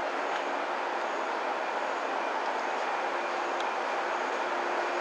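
Steady broadband rumble and rush from inside a moving JR train on the Sanyo line in Japan, even and unbroken throughout, with no voices.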